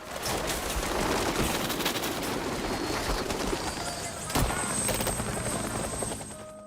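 Loud, continuous helicopter rotor thumping and whine, with sharp bursts resembling gunfire mixed in.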